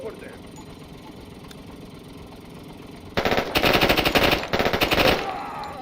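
Automatic gunfire from the tactical shooter game Door Kickers 2 erupts as a dense, rapid burst lasting about two seconds, loud against a quiet background of game ambience.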